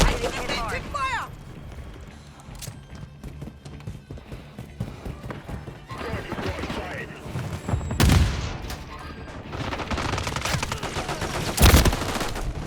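Gunfire in Call of Duty Modern Warfare 3: scattered shots and bursts throughout, with two loud broadband blasts near the end, under game voice callouts and background game sound.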